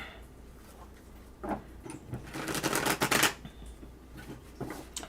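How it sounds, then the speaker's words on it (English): Tarot cards shuffled by hand in a quiet room, a brief riffle then a denser burst of papery flicking and snapping near the middle, with a few soft taps toward the end. "Yes, Sonny, I'm shuffling, and you can't stop me."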